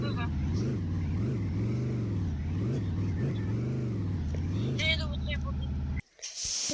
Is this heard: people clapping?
no